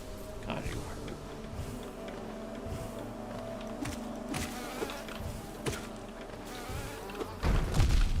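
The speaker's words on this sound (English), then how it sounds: "what even are these bees?" Giant bees in Hollow Knight give a continuous droning buzz under game effects, punctuated by sharp hits and thuds, with a heavier impact near the end.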